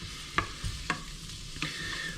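Onions frying in a pan, a soft sizzle under a few distinct stirring scrapes and knocks, with no talk.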